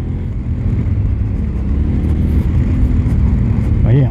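A Yamaha Ténéré 700 motorcycle engine revs and accelerates hard, a loud, close, rising rumble with road and wind noise under it, while someone talks over it.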